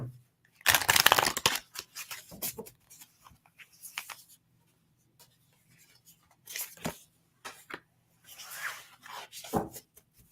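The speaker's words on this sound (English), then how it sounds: "I'm just going to pull a few more cards from different decks just to round out that answer" Reading cards being shuffled and drawn from several decks: brisk riffling bursts and soft sliding and tapping of cards come in short bouts between quiet gaps, close and intimate, with a voice speaking at times.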